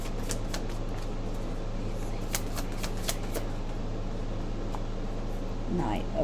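Tarot cards being shuffled, a run of quick papery riffles and taps concentrated in the first half, close by over a steady low room hum, with faint voice-like sound mixed in.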